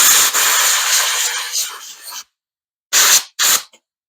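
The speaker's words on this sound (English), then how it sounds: "going to grab the air nozzle again. Take that starter. Spraying that out right there." A loud, steady hiss of compressed air from an air nozzle spraying out a small gas engine's electric starter for about two seconds, then silence, followed by two short sharp bursts of air.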